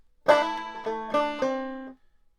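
A clawhammer banjo plays a short run of plucked notes, bright and twangy, a few quick attacks before a final note rings out alone.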